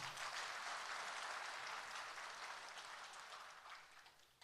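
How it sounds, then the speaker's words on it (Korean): A crowd at a Democratic Party joint campaign rally in Gimje claps for three mayoral candidates; steady, full applause that gradually fades over a few seconds. "아름다운 경선에 함께 하신 세 분의 후보님들께 큰 박수 부탁드립니다"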